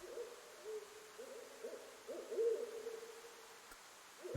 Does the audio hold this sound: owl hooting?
yes